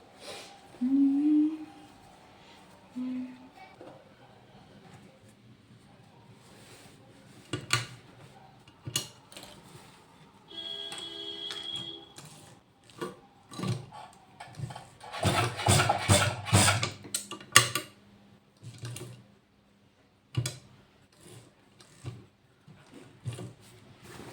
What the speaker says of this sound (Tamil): ஃபுல்லாக நான் ஸ்டிச் பண்ண போகிற அடுத்து இன்னொரு சைடு